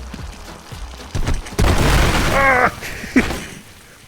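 Crackling pops and bursts from a minefield exploding in the VR earthbending game RUMBLE, a loud cluster of booms and fizzing crackles, with brief voices and chatter mixed in.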